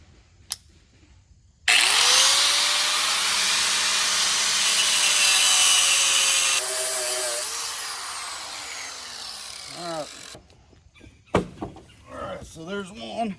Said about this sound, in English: we're just going to use a grinder